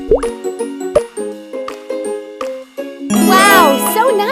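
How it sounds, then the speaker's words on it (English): Cartoonish plops, tinkles and chimes play as a cake pop is dipped into melted chocolate in a cooking video game, ending in a bright, sparkly jingle flourish. "Let's Dip the cake pot into the melted chocolate."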